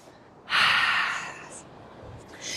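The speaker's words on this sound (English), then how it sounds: "Inhale through the nose. Exhale through the mouth." A clearing breath during a yoga class, one long airy breath about a second long followed by a softer trailing breath, close and fairly loud.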